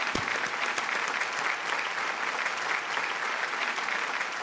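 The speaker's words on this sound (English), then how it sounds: "Can we please hear the applause for both these remarkable gentlemen?" A crowd at an awards ceremony in India claps steadily and loudly for two honoured men, a dense, even wash of applause that holds without a break.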